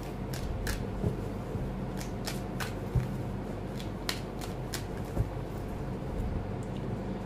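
Tarot cards being shuffled and drawn up close, soft papery riffles and slides broken by sharp card snaps and taps at irregular intervals, with no talking.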